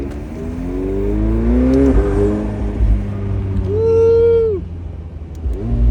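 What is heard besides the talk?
McLaren 720S straight-piped engine revving while driving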